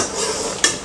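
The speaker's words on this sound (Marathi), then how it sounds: "आता मंद आचेवरती आपल्याला हा रवा भाजून घ्यायचा आहे।" Semolina roasting in a pan over low heat, stirred with a spoon in a soft scraping swish, ending in a single sharper clink against the pan.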